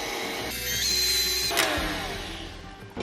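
An electric mixer whirring on low while beating half a cup of sugar into brownie cheesecake batter, a close steady motor hum that rises slightly in the middle and then fades, with no talking.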